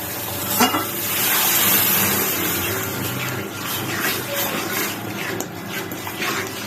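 Semolina halwa is stirred in a pan just after water is added, giving a loud, bubbling hiss with steady scraping and swishing close up.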